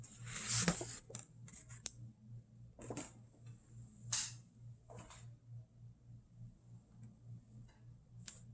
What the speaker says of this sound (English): I resorted to my kitchen scissors